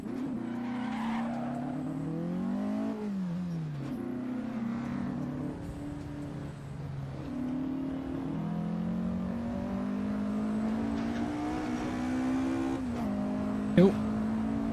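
Porsche 718 RS 60 Spyder racing at Oulton Park, its engine revving hard through rising and falling gear-change sweeps, loud and close with continuous tyre and track noise and a brief sharp blip near the end.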